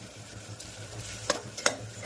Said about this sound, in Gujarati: दूधी दाळના શાકનો વઘાર થઈ રહ્યો છે ભાઈ